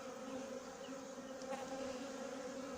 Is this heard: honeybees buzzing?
yes